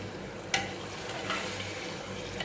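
Half a cup of water poured into frying moong dal in a pan, a sharp hiss at the moment it hits, settling into a steady soft sizzle and bubbling.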